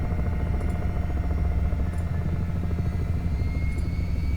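Steady rotor and turbine drone of an SH-60 Seahawk helicopter in a flight simulator, a continuous low thrum holding evenly throughout with faint periodic high ticks.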